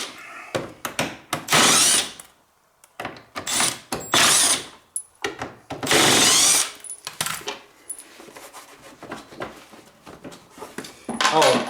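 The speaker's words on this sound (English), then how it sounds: "now I'm going to need Phillips screwdriver, or the old Milwaukee," Milwaukee power drill backing screws out of a gearbox cover on a Peg Perego 24 volt RZR ride-on toy, in several loud whirring bursts of a second or so each, separated by pauses with clicks and handling noises.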